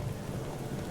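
Steady rain hiss with a low rumbling storm undertone in The Witcher 3 with the W3EE mod, a dark stormy night, continuous and fairly even with no distinct thunderclap.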